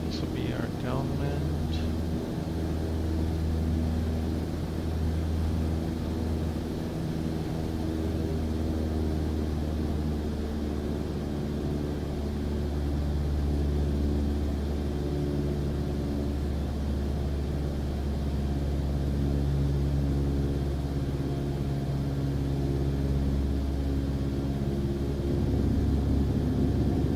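Cessna light aircraft engine in Microsoft Flight Simulator 2024, a steady droning hum with a low rumble that holds unchanged throughout, moderately loud and continuous.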